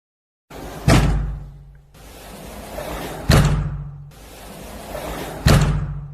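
A window or door on a lightweight plasterboard partition wall is shut three times, each one a loud, sharp thud followed by a short rattling rumble, spaced a couple of seconds apart with no talking.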